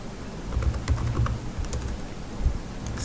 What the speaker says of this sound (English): So I'm going to type the module AF underscore modules